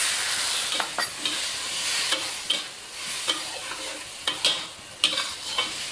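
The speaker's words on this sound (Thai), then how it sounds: "คลุกเคล้าค่ะ ถ้าเห็นว่าน้ำน้อยสามารถเพิ่มน้ำได้นะคะ" Tofu and sweet peppers being stir-fried in a pan: repeated sharp scrapes and clacks of a utensil over a steady soft sizzle, close and fairly loud, with no talking.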